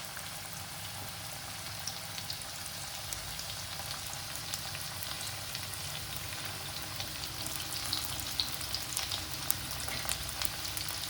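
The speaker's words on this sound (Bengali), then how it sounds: "এবারে আমাদের লাল লাল করে ভেজে নিতে হবে।" Steady crackling sizzle of chicken popcorn frying in hot oil, dense fine popping that grows slightly busier over time, with no voices.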